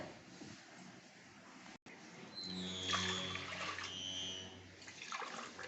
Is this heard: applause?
no